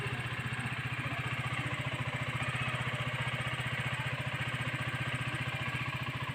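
A Motorstar Star X 125 motorcycle engine idles steadily and noisily at close range, a rapid even chugging pulse with a rattling clatter that stays constant throughout.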